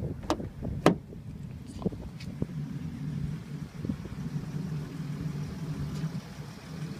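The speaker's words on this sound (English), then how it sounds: "We're going to open up the door here." The door of a 2013 Mercedes-Benz Sprinter conversion van opening at a dealer lot, with a few sharp latch clicks and clunks early on, then a low, steady background hum.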